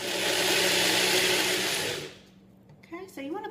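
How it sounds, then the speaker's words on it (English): A Nutri Bullet blender whirs loudly and steadily while mixing cookie ingredients to a creamy consistency, then shuts off, followed by a brief voice talking afterward. "Now I like to mix this in my handy dandy Nutri Bullet"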